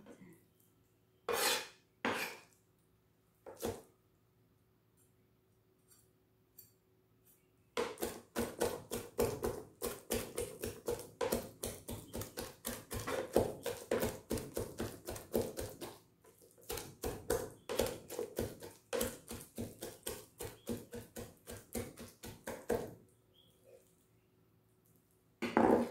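A knife mincing pork and shrimp on a board: a few separate chops, then a long run of fast, even rhythmic chopping that pauses briefly and resumes, crisp and close.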